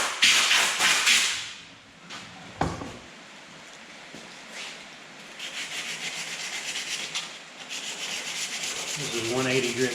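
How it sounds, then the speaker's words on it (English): Hand sanding of a back door with 180 grit sandpaper, smoothing a flat section; steady close scratchy rubbing strokes, louder at first, then a sustained gritty back-and-forth rasp with a few knocks. "This is 180 grit sandpaper I'm using right now."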